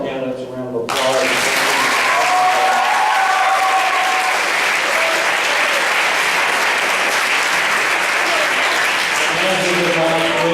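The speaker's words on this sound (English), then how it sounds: "I'd like to have to give all of our candidates a round of applause" Loud, dense audience applause for political candidates at a high school forum erupts suddenly after a brief moment of speech and holds at a steady, full level throughout.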